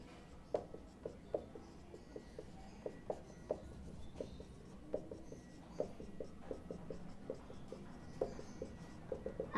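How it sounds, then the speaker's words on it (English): Pen strokes on paper as a number line is drawn, a series of short, crisp taps and scratches at uneven intervals, close but quiet, with no talking. "Now you draw a number line."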